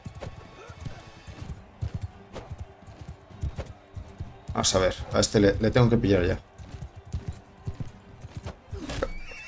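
Hoofbeats and horse whinnies from Mount and Blade II: Bannerlord, an exhausted horse in battle, the galloping clip-clop running throughout with a loud neigh in the middle, while someone talks over it.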